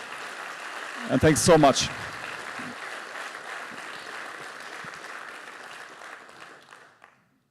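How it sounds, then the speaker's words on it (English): A conference audience applauds the event sponsors with a broad, steady patter of clapping that fades out over several seconds, while a presenter on stage briefly speaks over it at the start. "One more round of applause, please, for them."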